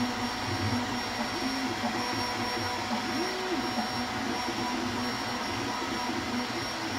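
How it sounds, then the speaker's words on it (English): A Creality K1 Max 3D printer runs its belts and stepper motors back and forth in a steady whirring drone with shifting pitched motor tones, constant and close throughout. "you listen to this thing moving back and forth long enough, the sound of the belts and the motors"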